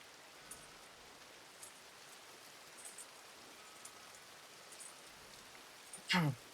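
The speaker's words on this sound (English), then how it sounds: "So all it seems to do around these parts is just fucking rain." Steady rain falls in the RedM open-world western game, a soft continuous hiss with faint scattered drops, then a brief louder swish near the end.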